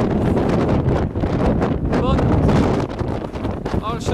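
Strong wind at Balanced Rock in Arches National Park, buffeting the microphone in loud, gusty roars with brief lulls. Voices seem to mix in with the wind.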